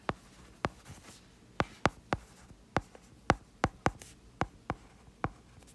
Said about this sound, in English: Write it out.